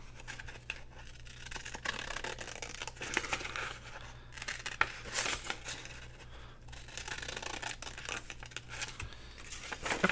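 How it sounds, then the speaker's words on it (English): Quiet, close scissors snip and crinkle through paper in irregular bursts over a low steady hum. "scissors cut much better when they don't have a bunch of goop on them"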